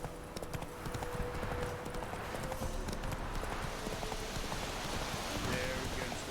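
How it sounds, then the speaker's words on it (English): Horse hooves clip-clop steadily in The Witcher 3, mixed with rain-like patter and a dense game soundscape, with continuous footfalls throughout. "It would be quicker to get on the horse."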